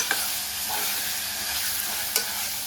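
Steady sizzling of chopped chicken frying in a hot pan, with occasional scrapes and clinks of stirring, close and continuous without any talk.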